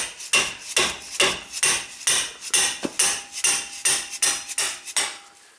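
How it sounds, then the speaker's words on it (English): A rapid, steady series of sharp metallic whacks, around a dozen strikes of a plastic hammer against a wrench on a rusted Subaru hub assembly, loud and close. "You take a wrench and you just smack it with a plastic hammer."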